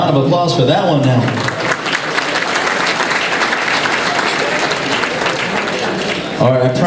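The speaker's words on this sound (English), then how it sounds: "Round of applause for that one now." Sustained audience applause fills a medical annual gala hall, a dense crowd of clapping that runs loud and steady for several seconds, with a voice speaking briefly at the start and end.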